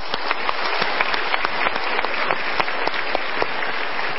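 An audience gives steady, dense applause for a couple, a continuous patter of clapping heard alone throughout at moderate loudness.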